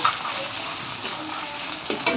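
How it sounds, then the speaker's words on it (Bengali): Fried onions tipped into hot oil for chicken biryani set off a steady close sizzle, with a spoon clinking against the pot near the end. "আমি তেলের ভেতরে দিয়ে দিচ্ছি সেই পেঁয়াজ বেরেস্তা দিয়ে দিচ্ছি।"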